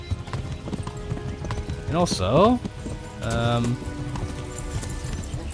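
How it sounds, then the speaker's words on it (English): Horse hooves clip-clop steadily in a video game as a horse trots and gallops over ground, with a whinnying neigh cutting in twice; a voice speaks briefly over the rhythmic hoofbeats. "His horse is terrible. He's galloping, I'm trotting, and I'm keeping up with him."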